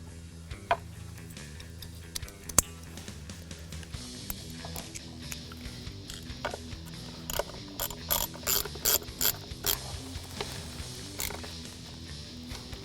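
A hand ratchet clicks in quick bursts while an ignition coil is reinstalled on a 2015-2017 Ford Mustang GT during a Roush supercharger install, the clicks close and crisp, growing denser and louder toward the end, no talking.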